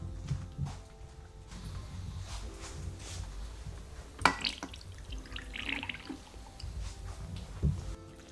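Water runs from a kitchen tap in a home kitchen during cooking of red peas soup, a low steady stream with scattered drips and small clatters, fairly quiet and with no talking.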